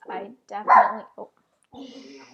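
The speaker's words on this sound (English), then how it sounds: "you can hear my dog barking" A dog close by gives a few short barks, mixed in with a person speaking briefly.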